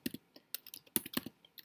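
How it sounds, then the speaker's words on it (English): Sparse keystrokes on a computer keyboard, with the spacebar tapped repeatedly in quick, uneven clicks, close and quiet with no talk. "I'm hitting my spacebar five times to get that"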